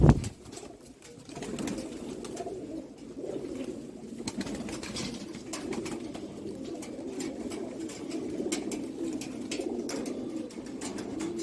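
Sialkoti pigeons coo in a loft, low throaty rolling calls overlapping continuously at close range, with occasional soft wing flutters and small bumps, no one speaking.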